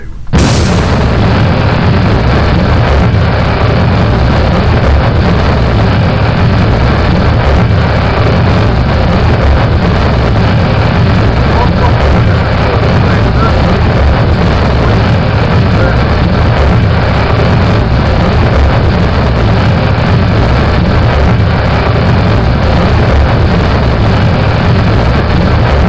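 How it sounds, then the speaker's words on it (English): A massive cluster of rocket engines fires at full throttle in Kerbal Space Program, a loud, sustained roaring rumble that holds steady and unbroken from the ignition burst onward, with no voices over it. "RCS on, SAS on, throttle up, and let's have a look at see what this ridiculous mass of engines and death can really do"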